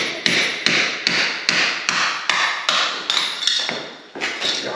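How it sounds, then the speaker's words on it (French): A jackhammer breaks old tiles and heat-damaged plasterboard indoors, striking in a steady series of about a dozen loud, close impacts, each followed by crumbling debris. "avec The Marteau Piqueur"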